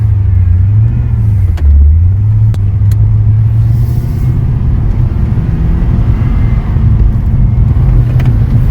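A Holden VT car fitted with an LS engine and a Uniclutch Sport clutch drives along, its engine holding a steady, loud low drone from inside the cabin with a few faint clicks and no talk.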